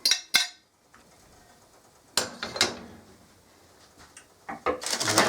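Liver, bacon and onions are stirred in a pan in a kitchen, giving a few sharp metallic scrapes and clinks of a utensil against the pan with quieter gaps between, close and fairly loud.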